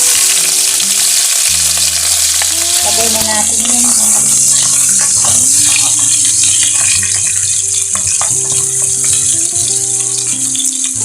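Ginger and chicken fry loudly in hot oil, a dense continuous sizzle with stirring clatter and scraping throughout, close and prominent.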